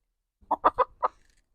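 Four short clucks from chickens in quick succession, close by and fairly clear, with no talking.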